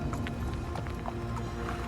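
Horse hooves clip-clopping steadily at a walking pace, a ridden horse urged forward on a stone road through a mountain saddle, close and continuous throughout with no voices.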